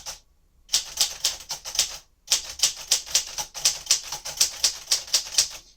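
Typing on a 1957 Royal Aristocrat manual typewriter: crisp mechanical key strikes in quick uneven bursts with a brief pause, close and clear, no voices.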